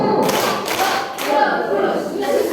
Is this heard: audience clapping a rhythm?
yes